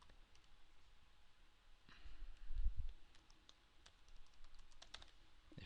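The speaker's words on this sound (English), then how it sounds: "if my typing didn't suck so bad" Quick, irregular typing on a computer keyboard at a desk, light clicking keystrokes with a few louder taps and a thump midway, close but soft with no talking.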